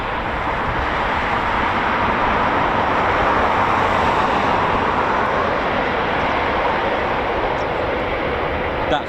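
Eurofighter Typhoon FGR4 jet at RAF Coningsby, a steady broadband roar of jet engine noise that stays loud and constant throughout, with no talk over it.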